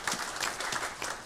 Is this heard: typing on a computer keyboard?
no